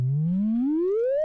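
A pure synthesized sine tone from Blender 4.0 sound nodes, gliding smoothly upward in pitch from low to higher over about a second, steady and clean with faint harmonics and no other sound.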